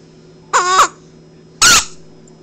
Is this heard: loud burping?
no